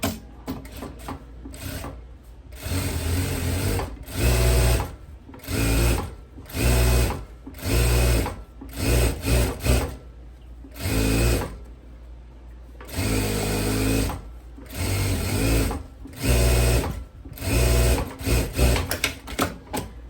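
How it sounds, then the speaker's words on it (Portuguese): A sewing machine stitches down the elastic edge of a kimono-style dress in repeated bursts of rapid whirring, each a few seconds long with short pauses between. The sound is close and clear, with no talking. "eu vou passar mais uma costura prendendo essa beiradinha do elástico aqui nessa ponta"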